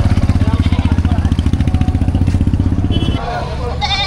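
Goats at a livestock market in Padre Garcia, Batangas, give a short wavering bleat near the end, after a loud, rapidly pulsing engine-like rumble, with voices nearby.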